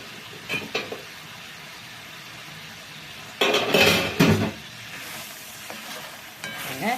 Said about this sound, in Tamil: எண்ணெயில் நல்லா வெந்துடுது சிக்கனை